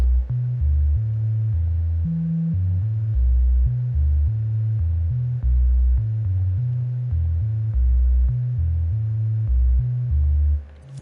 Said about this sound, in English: we've got Dark Palm's Slap 808, which is a lot of fun